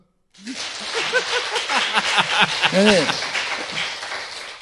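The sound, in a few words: audience applause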